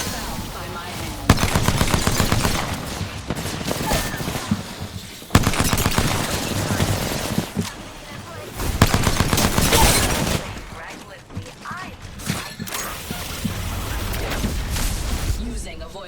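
Rapid automatic gunfire bursts in the shooter game Apex Legends, several loud rattling volleys separated by short pauses, with game voices speaking among the shots.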